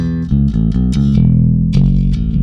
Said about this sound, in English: Sticking in the slap button here gives me enough poke in the top end to really cut through.